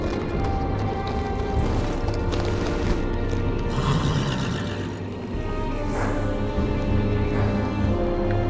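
Horse hooves clip-clopping in the Game of Thrones video game, a steady rhythmic trot with whinnies layered over a loud, dense background score.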